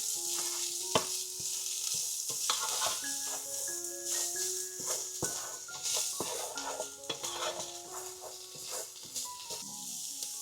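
Seasoning of garlic powder, Sazon and black pepper being stirred into food frying in a pan: a soft sizzle under repeated scraping and clinking of a utensil against the pan, close and busy.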